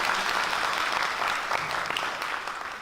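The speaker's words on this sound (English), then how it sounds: "clap if you've done a showcase and if you've attended one" An audience at a school district State of the District gathering claps together in a dense, even wash of applause that holds steady for a few seconds.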